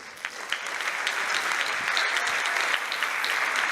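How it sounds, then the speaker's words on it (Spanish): Audience applause at a Spanish-language ecommerce podcast event, a steady dense wash of clapping held at an even level for several seconds with no voices over it. "os pido un fuerte aplauso para mi compañero, en este caso ayudante, Ezequiel Sánchez."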